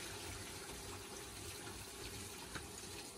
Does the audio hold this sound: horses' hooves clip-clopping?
no